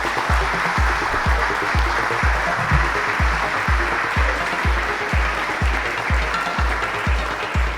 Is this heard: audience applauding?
yes